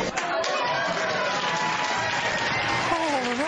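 Applause from members of the conservative group Americans for Prosperity, a dense, steady clapping roar that runs unbroken from start to finish, with crowd voices and cheering mixed in underneath.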